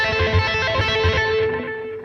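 Electric guitar notes tapped in quick succession, with a messy wash of other strings ringing and droning underneath, slowly fading.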